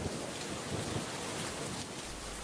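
Steady, dense rainfall in a cartoon scene, a continuous hiss of drops on surfaces with a low rumble beneath, heard alone without voices.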